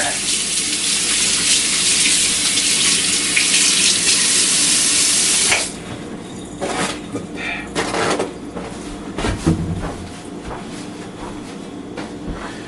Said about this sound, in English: I'll give my hands a wash